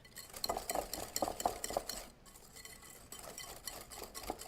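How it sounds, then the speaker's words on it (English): A utensil stirs and mixes ingredients in a bowl, giving repeated scraping strokes and light clinks against the bowl in an uneven rhythm, close and moderately quiet with no talking. "mix this until really well combined"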